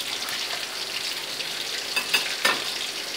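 Battered mairo fish fries crispy in hot oil, giving a steady, loud sizzle with a few sharper crackles and pops near the end.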